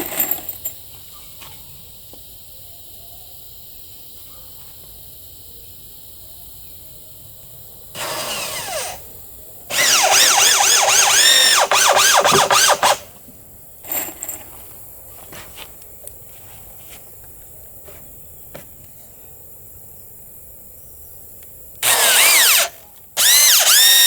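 Power drill driving a screw into a wooden archery target stand, with several loud whirring bursts of varying length separated by quiet pauses, the longest lasting a few seconds.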